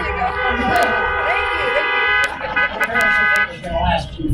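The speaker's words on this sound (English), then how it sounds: "Everybody honk for 50 years." Many car horns honk together at an outdoor celebration, sustained blaring tones with brief breaks and overlapping toots, loud and close, while voices carry underneath.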